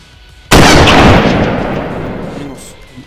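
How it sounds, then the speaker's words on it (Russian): A single loud gunshot in the survival video game DayZ cracks suddenly and then rolls off in a long booming echo that fades over a couple of seconds. "Я только отошел и выстрелил."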